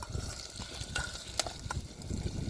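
Paneer fries in oil in a pan at an outdoor campsite as evening falls, a soft steady sizzle with a few sharp crackles and scrapes, fairly quiet.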